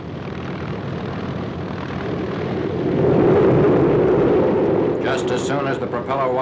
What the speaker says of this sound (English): the next member of the carrier squadron leaves the forward runway.